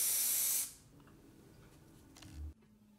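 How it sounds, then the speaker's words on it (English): Spray adhesive hisses loudly out of a can onto boards for a cable-free desk back panel, one strong burst lasting about half a second, then quieter handling noise and a short low thump. "I'm using spray adhesive to glue these onto the boards"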